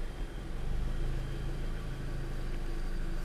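A 2006 VW GTI with the 2.0L engine idling, with a worn camshaft and a damaged high-pressure fuel pump: a steady, even low rumble that stays close and continuous throughout.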